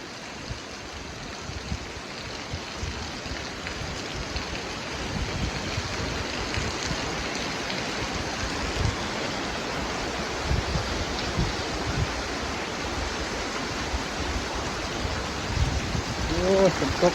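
Heavy rain pours down in a steady, broadband wash with gusty rises and a slight swell toward the end, like a downpour close by, with occasional faint voices underneath.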